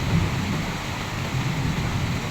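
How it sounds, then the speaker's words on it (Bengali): A heavy rainstorm with gusty wind lashes Sylhet, producing a loud, unbroken roar of pouring water with low rumbling underneath and no one speaking. "বৃষ্টির তাণ্ডবটা দেখেন"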